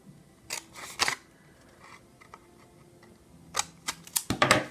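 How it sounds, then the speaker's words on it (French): Cardstock box flaps being cut, likely with scissors, in a Stampin' Up! paper craft: a few short crisp snips and rustles, close by, with quiet gaps between them and a denser burst of cuts at the end, no voices. "on vient couper comme ça les 2 rabats"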